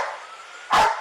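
A dog gives a single sharp bark close by, short and loud, after a moment of faint background noise.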